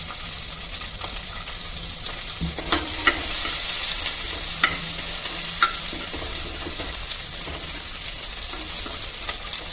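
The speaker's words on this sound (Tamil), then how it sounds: "குடமிளகாயை ஒரு வதக்கி எடுத்து வச்சுக்கலாம்" Capsicum sautés in a hot pan for a paneer mutter korma, a steady bright sizzle running throughout, with a few spatula taps and scrapes standing out near the middle and no voices.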